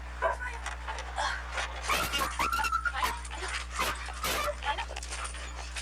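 A skittish stray dog pants and whimpers at close range, with high whining cries and breathy panting over a steady low hum, while a person talks intermittently.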